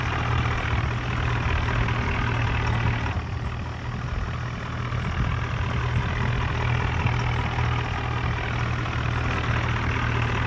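A heavy John Deere tractor engine runs continuously close by, a steady low rumble and idling drone with no voices.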